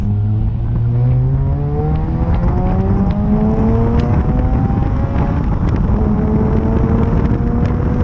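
A car revs hard and accelerates on a run, its loud engine tone climbing steadily in pitch through the gears with a constant roar and wind rush, close and dominant, no talking.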